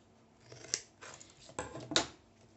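Scissors snip close to the microphone, with a few quiet, crisp cuts in an uneven rhythm during Halloween coffin crafting, and no talk.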